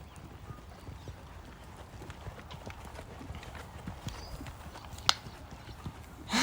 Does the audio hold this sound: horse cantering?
yes